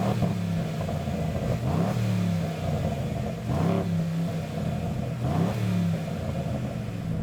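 An Aston Martin's engine revs several times in close, loud succession, each climb and fall rising over a steady running drone, with no voices.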